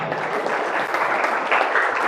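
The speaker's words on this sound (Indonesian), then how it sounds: "tepuk tangan untuk dia" A school audience gathered at a Friday religious study session applauds. Dense, even clapping holds steady for the whole moment.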